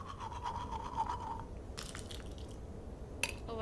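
Teeth brushed with a toothbrush in the video game Life is Strange: a close, wet scrubbing that runs steadily, then breaks into short brisk strokes and a few clicks, with no voices.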